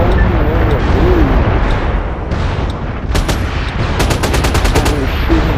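Gunfire in the online shooter MAG on the Elk Bay map: bursts of rapid automatic shots with sharp repeated cracks, loudest near the end, under continuous game noise and a player's excited talk.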